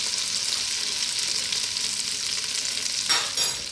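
Flour cooks in butter and lamb juices inside a stew pot for a red wine lamb stew, a continuous soft sizzle close by, with a couple of louder scrapes of stirring near the end.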